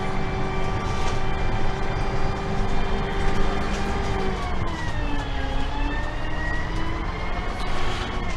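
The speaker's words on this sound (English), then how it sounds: "Get a better sound of the gearbox" A bus gearbox runs inside a crowded restoration shed, making a loud continuous whine with steady tones that glide down in pitch partway through, set over a constant low mechanical drone.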